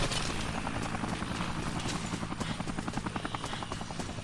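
A helicopter in the video game Dead Rising, its rotor chopping in a steady rapid pulse that stays loud and close for the whole stretch, with no voices over it.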